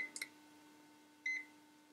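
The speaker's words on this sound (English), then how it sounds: "you do get a timer here as well, which is nice, and a constant beep, which isn't so nice" HT Instruments Neptune winding tester emitting electronic countdown beeps: a short high tone near the start and a longer clear beep a second later, over a steady faint hum, with no speech.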